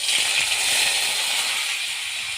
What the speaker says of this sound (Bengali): এবার এঁচোড় আর আলুগুলো ভেজে নেব।